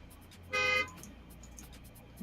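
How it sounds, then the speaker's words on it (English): A single short car horn toot sounds outside, fairly faint and distant, over a quiet room background. "I hear honking outside, of course."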